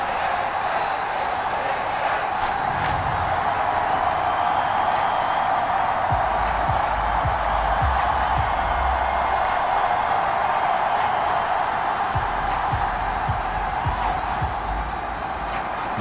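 A stadium crowd in the Madden NFL 24 football video game roars in a steady, dense wash of noise, with scattered low thumps underneath and no clear talking.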